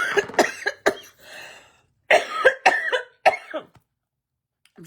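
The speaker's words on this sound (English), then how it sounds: "My coffee's making me cough." Several sharp, close coughs from someone drinking coffee, in two bursts separated by a short pause, loud and dry, with no talking.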